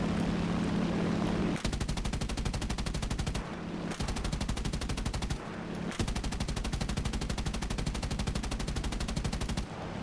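Sustained machine-gun bursts in War Thunder aimed at a DB-3 bomber, loud rapid continuous fire broken by two short pauses, no talking.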